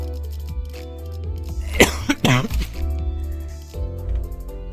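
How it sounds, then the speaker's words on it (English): A couple of sharp coughs burst out in the middle, close to the mic, between stretches of quiet talk. "Sorry for all the coughing."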